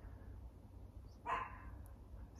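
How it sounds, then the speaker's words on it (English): A dog gives a single sharp bark in the distance, breaking an otherwise quiet, faint background in Iceland. "Except that dog."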